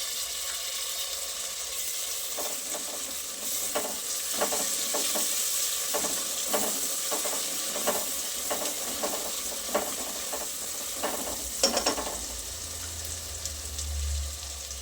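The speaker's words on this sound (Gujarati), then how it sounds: "એક ટામેટું સમારીને રાખેલું છે એ પણ ઉમેરી દઈશું" Chopped tomato sizzles in hot oil in a pan while cooking palak masala khichdi, with a steady frying hiss and repeated scraping stir strokes, close and moderately loud, no talking.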